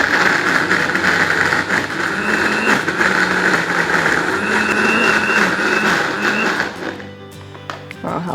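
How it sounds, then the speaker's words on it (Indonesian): A kitchen blender whirs loudly and steadily for several seconds grinding soaked dried shrimp, then cuts off, leaving a quieter rattle and a few small clinks. "Aku cuma blender sebentar karena aku masih pengen ada si tekstur ebinya"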